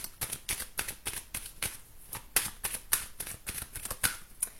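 Tarot cards being reshuffled by hand close by, a rapid series of papery riffles and flicks in uneven bursts, with no voice over them.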